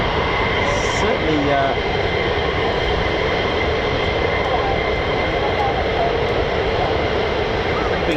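F-15 and F-35 fighter jets flying touch-and-goes at RAF Lakenheath, a steady, broad jet roar that holds throughout while a voice talks over it.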